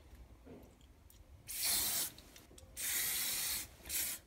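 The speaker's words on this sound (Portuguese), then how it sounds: "E eu dou uma espirradinha em cima." Hair spray misted onto a homemade brush-cleaning board in three bursts, with a short faint spray before the first two longer loud hissing blasts and a final shorter one, close up with no talk.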